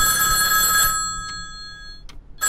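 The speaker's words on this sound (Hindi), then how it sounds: "अबे गेट बंद हो गया और फोन बजा।" Telephone bell ringing in the horror video game Hellseed, a loud electronic ring lasting about a second followed by two short bursts, with no talk.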